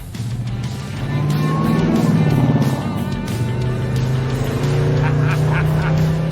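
A lowered black custom car driving, its engine droning steadily and loud from inside the cabin, rising in intensity after the first second and holding a throaty hum throughout.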